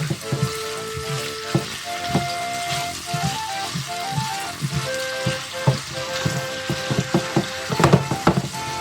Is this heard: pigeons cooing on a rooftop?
no